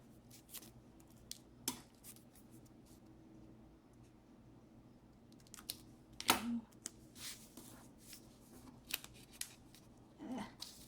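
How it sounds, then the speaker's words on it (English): Scissors snip through tissue paper in a quiet indoor setting, a few sharp isolated cuts scattered over a soft background hum, close by with no talking. "Just cut this in half."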